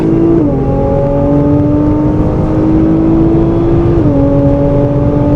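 A Japanese performance car driven hard into the pits gives a loud, close engine drone that holds steady, then dips briefly as a gear changes and runs on, heard alone without voices.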